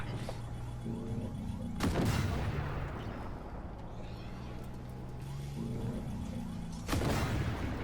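Two heavy explosions in Armored Warfare, a tank battle game, blasting away cover. Each is a deep, loud boom with a long rumbling tail, spaced a few seconds apart over steady engine drone.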